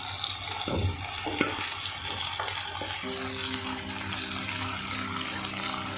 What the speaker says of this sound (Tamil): இப்போ இந்த டைமில் நம்ம வெண்டைக்காய் நம்ம சேர்த்துடலாம்.